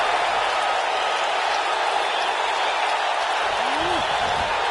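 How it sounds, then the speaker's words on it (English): A wrestling crowd in the video game WWE 2K19 keeps up a steady, loud wash of cheering and applause during a six-man tag team match at Survivor Series. A single brief whistle-like rise cuts through near the end. "The crowd never gets tired of The Rock's antics."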